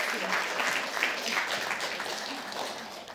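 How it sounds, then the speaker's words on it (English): An audience applauds a conference panel, a dense, steady wash of many hands clapping at moderate distance, slowly tapering off toward the end. "Give them a round of applause."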